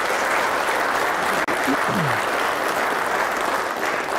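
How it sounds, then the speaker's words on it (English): A crowd claps continuously, dense and steady, with a brief cut partway through and a few faint voices underneath. "So you need to give yourself a round of applause right now."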